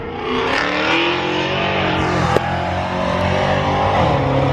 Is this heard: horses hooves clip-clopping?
no